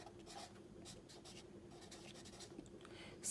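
A pencil sketches broken lines on paper, a faint dry scratching in short strokes, soft and close.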